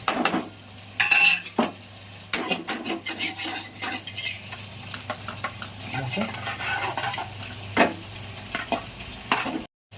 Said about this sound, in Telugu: నెక్స్ట్ మనం జీరా వేయించుకోవాలి